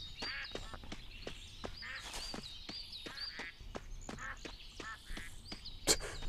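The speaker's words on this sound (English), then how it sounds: "Ducks." Ducks in the video game Duck Dynasty give repeated short, nasal quacks at an uneven rhythm, some overlapping, with light footstep-like taps underneath and no talk.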